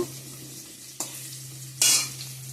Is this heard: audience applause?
no